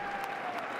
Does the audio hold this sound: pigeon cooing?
no